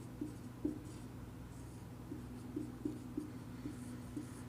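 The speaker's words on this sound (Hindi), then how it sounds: "अब मैं यहाँ लिख देता हूँ हिंदी में" A pen or marker writes on a board or paper during a Hindi lesson on alphabet problems, making faint scratching strokes that come in an irregular rhythm under a steady low hum.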